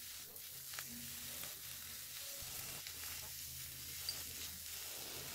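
Chopped half green and half red bell peppers sauté in a pan with a soft, steady close-up sizzle and a few faint scrapes of stirring, with no talking.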